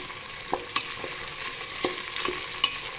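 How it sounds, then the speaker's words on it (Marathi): Onion and cashews sautéing in oil for peas paneer pulao, a soft steady sizzle with a series of distinct spoon scrapes and taps as the pan is stirred, close and fairly quiet. "हा कांदा आणि काजू टाकले ते परतून घेऊया"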